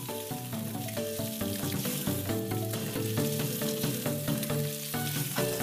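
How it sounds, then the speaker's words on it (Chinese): Snails stir-fry in hot lard with ginger, garlic and chili, a loud continuous sizzle and crackle throughout with a steady tonal hum alongside, no voices. "把处理好的螺丝放入荤油中，连同姜蒜和辣椒一起爆炒备用。"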